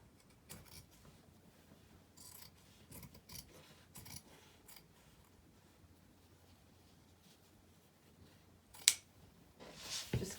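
Scissors snipping through corduroy fabric while excess is trimmed from a handmade jacket give quiet, intermittent crisp cuts in short bursts, with a louder snip near the end and no talk.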